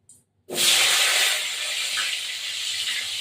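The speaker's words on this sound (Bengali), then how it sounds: "এবার আলুগুলো আমি ভাজতে দিলাম এই আলুগুলো একটু লবণ দিয়ে ভাজবো" Potatoes frying with salt in hot oil for a Saraswati Puja meal of khichuri and cauliflower curry, a loud steady hiss that bursts in sharply after a brief quiet start and holds close and continuous.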